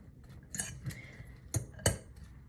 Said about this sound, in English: I'm then going to use my fork again to mix all that vegetable into our couscous